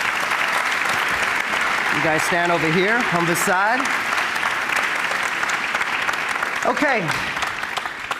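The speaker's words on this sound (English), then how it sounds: "Let's give them a round of applause." An audience at a tech innovation event in a main hall applauds with sustained, dense clapping throughout, while a person speaks briefly over it.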